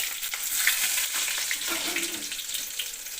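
Chopped garlic sizzles in hot oil with mustard seeds and fennel, a steady close frying hiss with light stirring scrapes and no talk.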